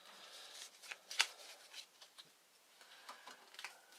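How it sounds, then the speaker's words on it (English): A quick shuffle of Shadow of Brimstone board game cards (Growing Dread cards) at the table: a close run of soft, riffling flicks and taps lasting a few seconds, fairly quiet, with no talk. "Do a quick shuffle."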